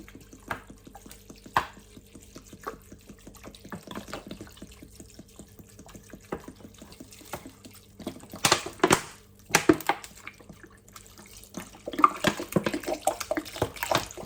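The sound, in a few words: mineral water poured from a bottle onto sea moss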